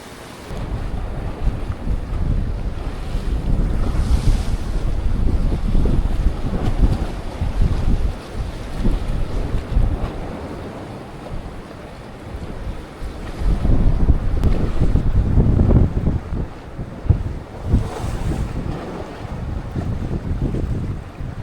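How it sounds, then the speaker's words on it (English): Steady roar of wind buffeting the microphone on a sea rock, with rushing water and waves, heavy rain noise surging and easing in gusts, no voices. "So that rain coming down hard."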